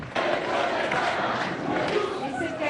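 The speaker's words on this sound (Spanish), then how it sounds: "Para el Papa Francisco, un fuerte aplauso" A crowd greeting Pope Francis in Santa Cruz gives a strong ovation, a steady wash of cheering and clapping that holds at an even level throughout.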